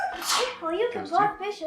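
A single sharp, loud sneeze bursts out close to the microphone near the start, followed by someone talking during a gaming livestream.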